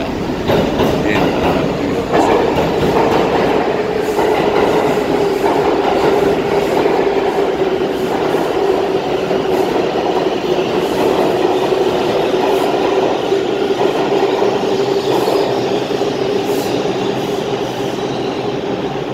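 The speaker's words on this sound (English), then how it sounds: "that 6 train local just went out, and a 4 train express moving down the center track" New York City subway trains, a 6 local and a 4 express, rumble steadily through Grand Central station, a continuous roar with rhythmic wheel clatter and a faint squealing whine, loud and close throughout.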